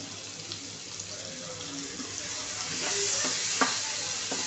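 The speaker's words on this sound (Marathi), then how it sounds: "मसाला छान असं तेलावरती मस्तपैकी परतून घ्यायचा आहे." Masala sautéing in oil in a pan on a low flame, giving a steady close sizzle and hiss with a few soft stirring scrapes near the end.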